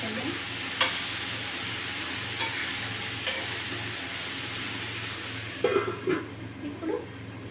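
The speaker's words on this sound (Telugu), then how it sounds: "ఇందాక కట్ చేసుకున్నాం కదా టమాటో అది యాడ్ చేసి ఒకసారి కలుపుకుందాం" Chopped tomato is stirred into okra frying in a pan, giving a soft, steady sizzle with a few faint scrapes and clinks of the spoon against the pan.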